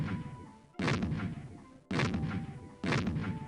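Artillery fire in the 1996 Windows PC game Sid Meier's Civilization II: three loud, booming cannon blasts about a second apart, each a sharp crack that fades into a rumbling tail, with no talking.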